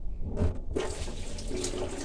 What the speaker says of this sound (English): what I'm going to do is pour off this water into here